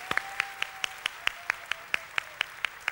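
Crisp, evenly spaced claps, about thirteen in three seconds, ring out in a steady rhythm over a faint sustained tone, following a call from the host of a Turkish-language show to applaud.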